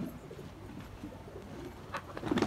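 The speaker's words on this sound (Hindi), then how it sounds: "बहुत ही लाजवाब कबूतर" Pigeons cooing in a loft kept for sale, the Rampuri and golden Sialkoti breeds, with soft low coos running throughout and a louder cluster of calls near the end.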